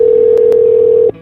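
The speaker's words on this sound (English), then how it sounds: "I dialed 911" A phone line tone plays while 911 is dialed on a cell phone outside near woods, a loud steady single tone with two brief clicks before it cuts off.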